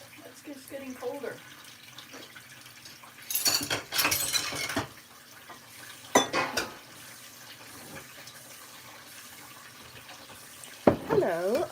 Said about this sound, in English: Come on, hot water, get hot. It's getting colder.